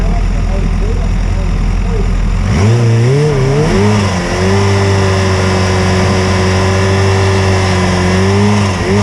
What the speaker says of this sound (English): Matty Top's down there doing his burnout.